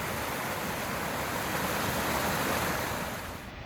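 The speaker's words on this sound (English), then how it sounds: "There is a gigantic waterfall down there." Broad, steady roar of a gigantic waterfall rushing somewhere below a shady, green forest trail, continuous and wide-band with no voices, holding even and then easing slightly at the end.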